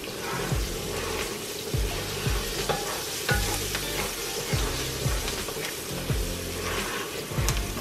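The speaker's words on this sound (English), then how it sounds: "brown this onion just a little bit." Steady sizzling of onion frying in a pan, with repeated scraping and stirring strokes and a low rumble of potatoes boiling underneath, no voices.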